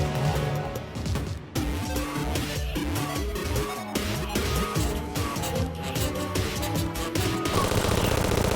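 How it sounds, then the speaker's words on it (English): Chain gun firing rapidly in Terraria during the Lunatic Cultist fight, a dense rattling stream of shots layered over loud game music and effects, continuous for several seconds before cutting out. "since the chain gun fires so rapidly, it will just kill them very fast"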